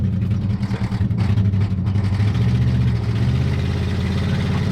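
A 1967 Lincoln Continental, an abandoned car with a faulty accelerator pump, rumbles while driving, its engine swelling in deep revs, stumbling a little early, then settling into a heavy, steady low growl up close.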